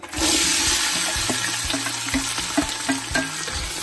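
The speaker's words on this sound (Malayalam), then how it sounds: "അപ്പൊ നമ്മൾ വെജിറ്റബിളും ആ ഇഞ്ചി അരിഞ്ഞു വെച്ചേക്കുന്നതും കൂടി ഇട്ട് കൊടുക്കുവാണ്." Vegetables and chopped ginger hit hot oil with fennel and fry with a loud, steady, close sizzling hiss that starts abruptly and carries on throughout, with faint clicks of stirring underneath and no voices.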